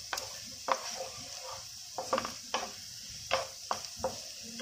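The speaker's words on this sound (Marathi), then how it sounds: "कांदा आपल्याला इथे चांगला परतून घ्यायचा" Onion sautéing in a pan for Marathi radish bhaji, a soft steady sizzle broken by repeated spatula scrapes and clinks against the pan at an uneven rhythm, close and fairly quiet.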